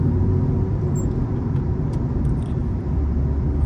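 A car accelerating in fourth gear on a Doha road during a driving test, a steady loud engine and road rumble from inside the cabin with no breaks.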